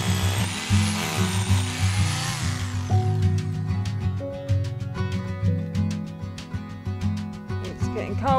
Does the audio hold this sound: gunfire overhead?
no